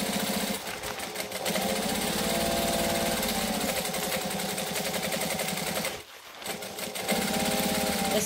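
A sewing machine back stitches while a Sheera garment from Tryxus Designs is joined at a short stitch length, its motor whirring steadily and close, dropping out briefly near the end before running again.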